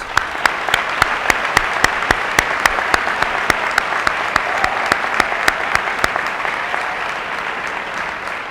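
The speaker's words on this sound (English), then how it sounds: "Please join us in a final round of applause for all of these very deserving students." Steady audience applause for graduating students at a senior awards ceremony, a dense wash of many hands clapping continuously and fairly loud throughout, with a few sharper individual claps standing out at regular intervals.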